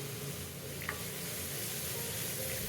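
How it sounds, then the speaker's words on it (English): Minced onions and green chillies sauteing in oil with curry leaves, cinnamon and spices for a coconut-based South Indian gravy, a steady close sizzle throughout with a faint stir or clink partway. "Sauteed it well and added 3 thinly minced onion and 2 green chillies"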